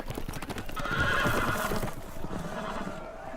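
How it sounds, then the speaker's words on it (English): In the Telltale Game of Thrones video game, horses neigh loudly over rapid clip-clop hoofbeats, a busy galloping scene with no talking. "The horses! They're loose!"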